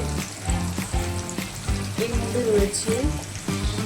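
Paneer cubes frying in a pan, crackling sizzle with bursts of spattering oil and a few clinks of utensils, close and loud, no talking.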